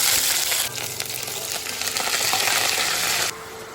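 Scallion and ginger hit hot oil in a pot for a homestyle cabbage, tofu and vermicelli stew, giving a loud, dense sizzle and hiss that keeps going and then eases slightly near the end.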